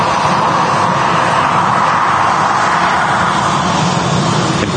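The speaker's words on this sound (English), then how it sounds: "EasyJet A320" An EasyJet Airbus A320 airliner with large sharklet wingtips rolls past at Manchester Airport, its jet engines making a loud, steady broadband roar that holds evenly throughout with no voices.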